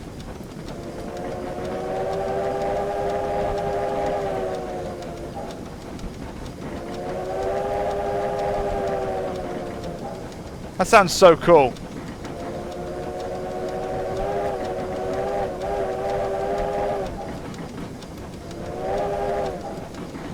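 A USATC S160 steam locomotive runs on the West Somerset Railway toward Minehead. A steady tonal sound with harmonics rises and falls in long phrases, interrupted by a sharp, loud whistle burst near the middle, and a voice speaks briefly.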